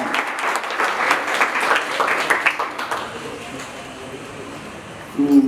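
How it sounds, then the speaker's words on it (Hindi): An audience claps loudly at a send-off speech for a retiring officer, a dense burst of applause that fades over a few seconds into quieter room sound before a voice starts again. "आप लोग इसके लिए आप अपने लिए जोरदार ताली बजाइए"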